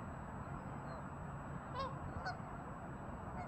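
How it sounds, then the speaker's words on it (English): Large flock of wild ducks gathered on a river, with a few faint honking calls rising over a steady broadband wash of water and outdoor noise. "Hundreds of wild duck"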